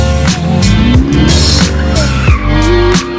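Car tires squealing while drifting in the mobile video game Car Parking Multiplayer, with loud sustained screeching and rising engine tones that break into several separate skids over a constant roaring motor.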